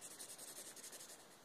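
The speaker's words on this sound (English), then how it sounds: "if you're wondering what that noise is, it's my pencil." A pencil scratches across paper in quick, faint, rhythmic strokes, close up and alone.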